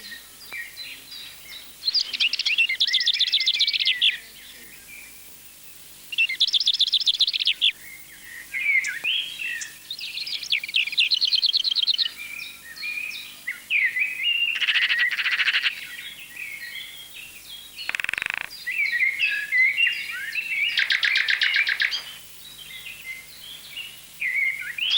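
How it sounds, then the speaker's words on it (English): Birds sing in the mountain nature of Vitosha, several bright chirping phrases in bursts with short pauses, clear against a quiet background. "Summer comes, and the singing of the birds"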